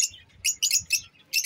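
Pet lovebirds chirping in sharp, high bursts of several quick tweets with short pauses between, close and fairly loud over a faint low rumble.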